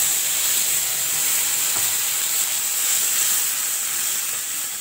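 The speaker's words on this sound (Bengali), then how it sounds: "খুব ভালো করে এবার মশলাটাকে আমি কষিয়ে নেব।" Spice paste fries in hot oil with whole cumin seeds and bay leaves, giving a loud, continuous close-up sizzle and hiss throughout while it is stirred.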